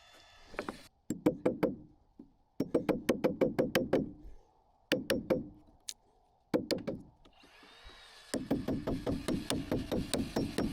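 A hammer drives a nail into a leftover wooden 2x6 floor joist, sounding as close, loud bursts of rapid wooden knocks separated by short pauses, the blows ringing with a slight hollow tone.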